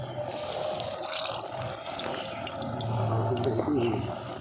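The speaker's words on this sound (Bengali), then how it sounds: "আমি এই তেলের মধ্যে এগুলোকে দিয়ে ভেজে নিচ্ছি।" Moong dal sweets dropped into hot oil to fry, a steady bubbling sizzle that rises in intensity, close by and continuous.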